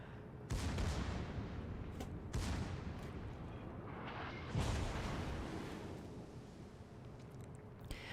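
Naval artillery salvos from a Tier 7 battleship in World of Warships, heavy booming gunfire arriving as three loud blasts spaced a couple of seconds apart, each followed by a long rumbling decay with no talk.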